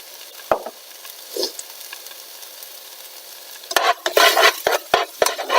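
Onion with salt softening in a hot pan, a steady low sizzle broken by a couple of scrapes early on, then a burst of loud, rapid spoon-against-pan stirring strokes near the end.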